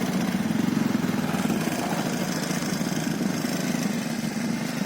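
Small engine of a paddy field weeding machine working a rice field near Melur, Madurai, running at a steady, continuous drone close by with no change in pace.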